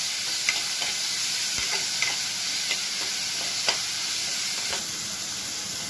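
Ginger garlic paste frying with golden-brown onions in a pan for Kolhapuri pandhra rassa gives a steady loud sizzle, punctuated by light scraping stirs every second or so.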